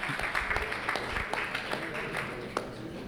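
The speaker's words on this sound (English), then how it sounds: "Round of applause for the panel, please." Audience applause for a panel at a farmer-led agriculture conference, a steady patter of many hands clapping that runs throughout and fades slightly toward the end.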